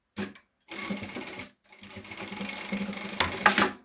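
A sewing machine stitches the start of an inner pocket seam on a shoulder bag: a brief whir, a longer run, a pause, then a steady stretch of mechanical stitching that ends in a slightly louder burst. Nobody speaks.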